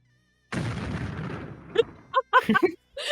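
A voice imitates an explosion with a breathy, rumbling burst from the mouth lasting over a second, followed by short vocal sounds and laughter.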